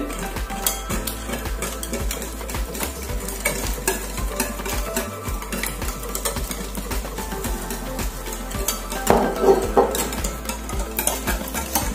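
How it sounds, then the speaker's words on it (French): A utensil beats banana fritter batter with two eggs just added, fast rhythmic whisking clicks against a bowl, close and steady throughout, swelling briefly near the end. "Et je mélange très bien."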